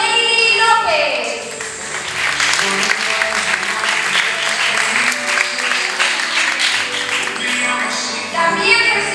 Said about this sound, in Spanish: Recibamos con un fuerte aplauso a Kaylee López.